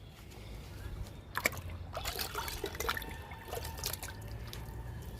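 Liquid fertilizer poured onto flowering fruit and drumstick plants outdoors: a steady close trickle and splash of liquid hitting soil and leaves, with a few louder splashes and brief scuffs in between.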